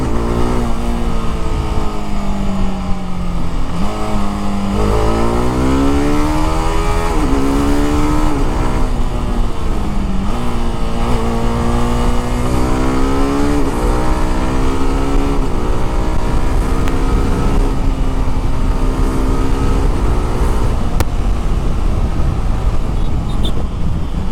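A 2025 TVS Apache RR 310 motorcycle rides on an open road with a loud, continuous engine drone that rises and falls through repeated gear shifts, heard close with steady wind noise.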